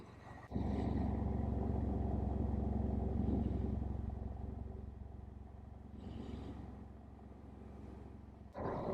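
A motorbike rides along a road on a New Zealand route through Danseys Pass, a steady low engine drone and rumble that eases slightly partway through, with no talking.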